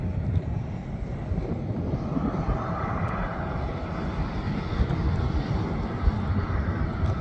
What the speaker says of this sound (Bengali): ওই যে বিমানে যাচ্ছে।